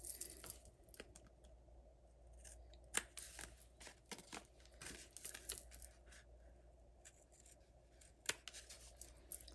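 Scissors snip through card stock for a Stampin' Up! handmade card, trimming off excess pieces in a series of short, crisp cuts with small clicks and paper rustles in between, close and fairly quiet, with no talking.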